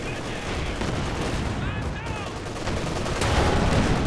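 Anti-tank guns fire in a World War II real-time strategy match beside a Panzer IV, a dense rumble of battle with repeated blasts and crackling shots, under continuous game noise and a commentator's voice.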